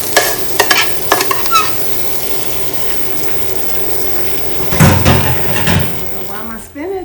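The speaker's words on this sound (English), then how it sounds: "So while my spinach is cooking" Fresh spinach wilts in a hot pan for spanakopita, a constant close sizzle with a few sharp clicks and scrapes of a utensil, and a louder burst of stirring near the end while someone talks.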